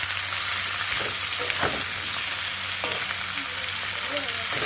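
Rohu fish head cooking with Malabar spinach in a pan, with a steady, continuous frying sizzle and a few soft stirring scrapes, close and alone with no talk.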